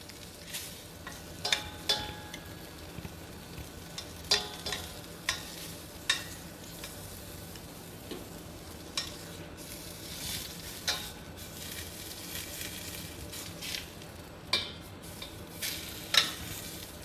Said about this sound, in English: the meat is getting seared as well as the black peppercorn is getting nicely toasted